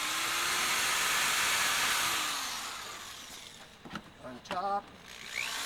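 A power drill drills holes in a 1993-2002 F-Body car roof panel cover, a steady, loud motor whir for a few seconds that cuts out, followed by a person talking close by.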